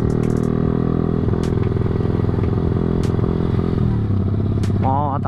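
A Yamaha Vixion 195 cc motorcycle engine idles loudly and steadily close by, a deep throbbing rumble with clattering mechanical ticks and a brief shift in pitch near the end.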